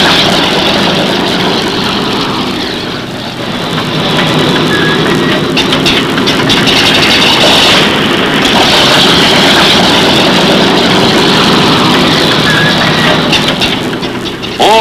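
Six large engines of a nuclear-powered bomber running up before takeoff, a loud, dense, continuous roar with a low rumble that holds steady throughout, dipping slightly near the start and swelling again, with no voices.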